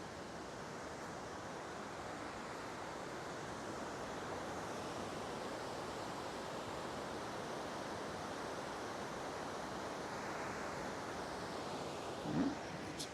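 Whitewater rapids at Piers Gorge, Michigan roar as a steady, broad rushing wash, distant and even throughout, with a single faint knock near the end and no voices.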